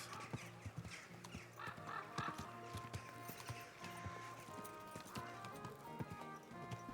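Horse hooves clip-clop at a steady trot in Kingdom Come: Deliverance II, close and rhythmic, over a low background hum with faint game ambience.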